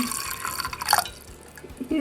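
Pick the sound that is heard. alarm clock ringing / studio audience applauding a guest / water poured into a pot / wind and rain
water poured into a pot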